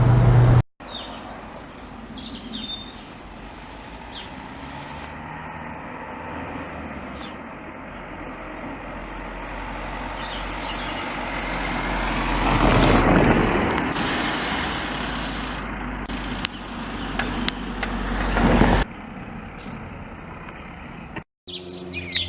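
A BMW 118d 1 Series five-door with a 2-litre diesel engine cruising on a UK motorway toward the Dartford crossing, giving a steady in-cabin drone of road and engine noise that swells briefly midway, with no talking.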